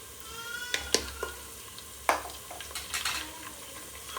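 Onions fry in a pan under a soft, steady sizzle, with several sharp scraping stirs and clinks of a spatula against the pan at irregular moments.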